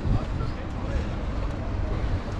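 A boat idles slowly out of a marina at the speed limit during a fishing tournament in Alanya, giving a steady low engine rumble with wind buffeting across the microphone and no pauses.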